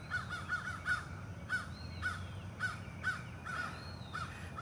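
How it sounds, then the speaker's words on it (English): Several crows caw near a cemetery in repeated, evenly spaced calls that sound moderately distant over a quiet background, with no one speaking. "I hear crows."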